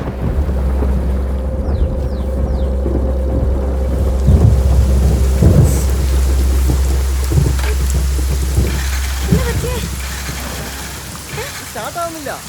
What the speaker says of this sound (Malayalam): ആ നീ വേഗം കയറി, മഴ വരുന്നുണ്ട്.